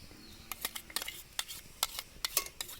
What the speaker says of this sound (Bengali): দেখো এবার আমি একটু আমগুলোকে সব দিয়ে দিচ্ছি